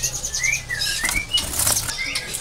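Imported Sikatan Londo flycatchers flap their wings in cages at a bird market, a busy run of quick fluttering bursts mixed with thin chirps close by, no talk.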